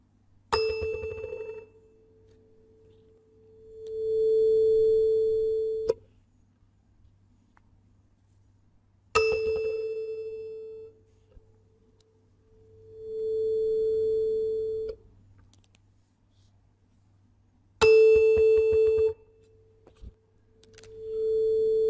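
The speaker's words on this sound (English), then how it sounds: "the other tuning fork actually continues to vibrate" Two tuning forks struck in turn, each ringing a pure steady tone that swells, holds and fades, with the second fork resonating at the same natural frequency; three cycles of bright strike followed by sustained humming, no talking.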